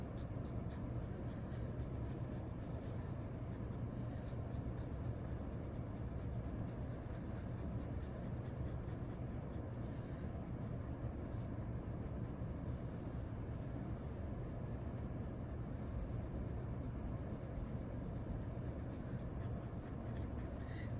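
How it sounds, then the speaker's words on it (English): Faint, continuous scratching of a pen or pencil cross-hatching on paper, a dense run of small strokes going on for about twenty seconds at low volume. "that's an example of cross-hatching."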